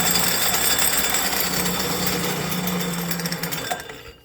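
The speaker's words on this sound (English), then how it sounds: "the back gear here is rattling a little bit" Worn bearing blocks make an Atlas Mk2 lathe's back gear rattle as it runs slowly, giving a dense, continuous mechanical chatter close by that eases off near the end.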